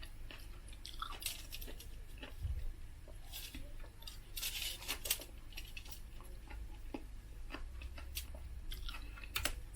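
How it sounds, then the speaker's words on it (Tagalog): Crunchy onion from an ensalada with alamang being chewed close up while eating rice by hand, a run of soft crisp crunches and clicks at a quiet level. "Crunchy ng onion."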